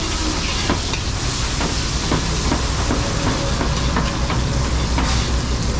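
Garlic and onion sautéing in oil for pancit at a catered birthday party in Manaoag, Pangasinan: a loud, dense, continuous sizzle with crackling spatter, close up and unbroken throughout.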